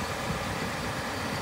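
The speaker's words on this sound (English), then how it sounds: "I just fired up the truck." A Ford F-150 pickup with the 5-liter V8 idles nearby, a steady, even low rumble with a constant hum and no revving.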